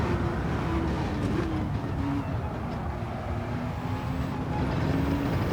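A race car holds fourth gear on a fast section of track in Gran Turismo 7, its engine a steady, loud drone with a sustained pitch that shifts only slightly, along with rumbling road noise and no speech.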